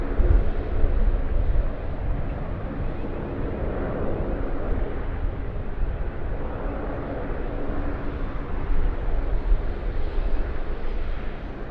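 A Regional Express Saab 340 turboprop taxiing into the gate at Sydney Airport, a steady loud low engine drone and rumble with broadband roar throughout.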